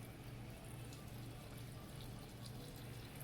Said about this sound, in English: Alright, I'm pouring it in.